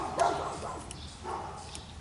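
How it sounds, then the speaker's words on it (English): Dogs bark a few times in the background near a Sears lawn tractor being repaired, short moderate barks at irregular intervals over low ambient noise. "Pardon the dogs barking."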